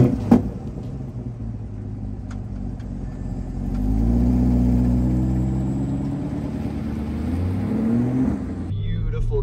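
A 2024 Chevy Corvette Stingray convertible drives through Los Angeles traffic, its engine a steady low rumble that swells as it accelerates midway, with road noise running underneath throughout.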